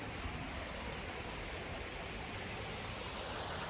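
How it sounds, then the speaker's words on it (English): Stream water flows steadily past rocks beside a trail and footbridge, a close, continuous broadband rush with no break and no voices over it. "Listen to that water, guys. Listen to it go."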